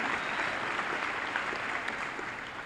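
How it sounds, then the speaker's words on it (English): Clapping from the audience at the 2013 Midland High School graduation ceremony, a steady wash of many hands at moderate distance that holds evenly for a few seconds. "You can clap"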